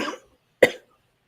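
A single sharp human cough rings out alone in a quiet moment, following a brief breathy sound at the start.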